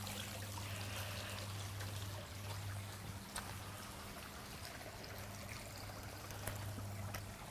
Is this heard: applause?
no